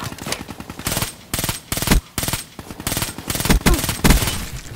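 Heavy automatic gunfire from a Call of Duty: Black Ops 3 match, loud and near, in repeated bursts of rapid shots separated by brief gaps.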